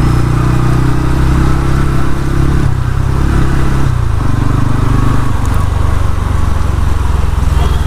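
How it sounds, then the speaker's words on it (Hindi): A TVS Ronin motorcycle engine runs steadily while riding, its loud continuous drone dipping and changing pitch at several gear shifts, with wind noise over it. "देखो एकदम स्मूथली गियर शिफ्ट हो रहा है"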